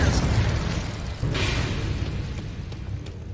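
A fire spell is cast in Hogwarts Legacy: a rumbling magical whoosh and burst of flame flares mid-clip over a dense, steady bed of game noise and low rumble, with faint crackles trailing off.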